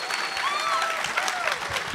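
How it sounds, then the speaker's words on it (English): A live panel audience at Rooster Teeth bursting into dense, close applause, the crowd's clapping loud and continuous for a couple of seconds, with a few voices calling out amid it. "Now everybody claps."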